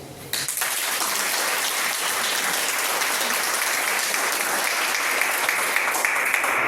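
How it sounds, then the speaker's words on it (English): A meeting audience breaks into applause for Joe and Jim: a thick, continuous wash of many hands clapping starts abruptly and holds steady and loud throughout. "one more round of applause for Joe and Jim"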